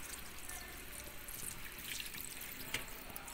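Steady rushing water pours and splashes into a cooking pot of curry, a continuous close wash of liquid with small drips standing out near the end.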